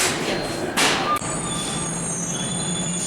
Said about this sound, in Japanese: チリの電車